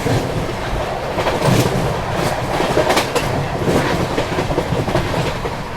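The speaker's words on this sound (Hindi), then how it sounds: "Sasaram Dhanbad intercity express" The Sasaram Dhanbad Intercity Express rushes past on an Indian main line, a loud continuous rumble with clickety-clack of wheels over rail joints, close and unbroken throughout.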